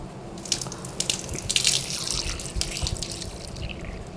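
Water running from a tap during a demonstration of wudu ablution, a steady splashing stream with drips and brief bursts as hands move through it, close and fairly loud, with no talking.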